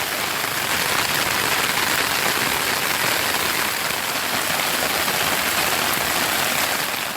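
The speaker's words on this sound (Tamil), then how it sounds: "திருவண்ணாமலை மற்றும் சுற்றுவட்டார பகுதிகளில் 1 மணி நேரத்திற்கும் மேலாக பலத்த மழை பெய்தது" Heavy rain pours down around Tiruvannamalai in a dense, constant hiss of drops striking surfaces, steady and loud throughout with no voices.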